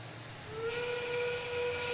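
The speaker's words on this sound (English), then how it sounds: "That sound means we have less than 30 seconds remaining in the match." A warning horn at a 2022 FIRST robotics district qualification match in Tippecanoe, Indiana, marking under 30 seconds left: a steady whistle-like tone enters midway and holds over arena noise.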